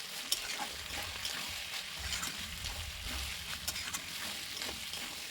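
Chicken sautéed over a flame for ghugni: soft, continuous sizzle with intermittent stirring scrapes, fairly quiet and close, with no talking.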